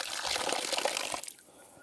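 Water sloshing and splashing out of a gold pan while panning for gold outdoors, a fairly close, continuous gushing wash that fades away near the end.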